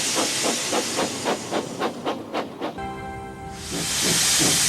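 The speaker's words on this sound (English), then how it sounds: "Sometimes when Thomas is thinking, he puffs out a cloud of steam." A cartoon steam engine from Thomas & Friends chuffs in a quick run of rhythmic puffs, then gives a tonal whistle-like blast and a long loud hiss of released steam, with no talking.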